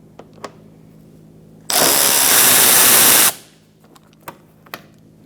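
A power tool with a T27 bit spins out bolts beneath a 2012-2018 Ford Focus fender liner, in front of the mud flap: one loud, close burst lasting under two seconds between quiet taps and clicks.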